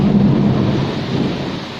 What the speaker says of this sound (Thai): ได้ยินเสียงฟ้าผ่าไหมคะ ฝนก็ตกหนักด้วยนะคะ